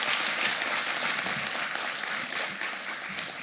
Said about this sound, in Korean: 모든 분들을 환영하는 의미에서 큰 박수 부탁드리겠습니다